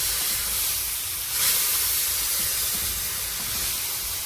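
Lentils with bottle gourd greens, chilli, turmeric and salt fry in a pan, giving a steady, close hiss of sizzling with a slight swell partway through and no speech.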